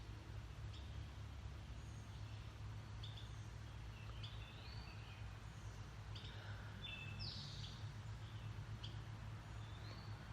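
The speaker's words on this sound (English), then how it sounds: "I'm hearing birds, but I'm not hearing our bird." Faint birds chirp and tweet in short scattered calls over a steady low outdoor rumble, distant and intermittent.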